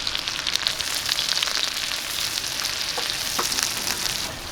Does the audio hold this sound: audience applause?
no